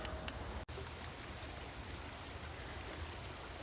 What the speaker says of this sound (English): Okay, I'm down here along the Conneaut Creek